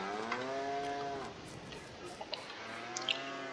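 Cows moo in the Farming Simulator video game, two long drawn-out lowing calls over a steady background hum, fairly quiet and with no talk.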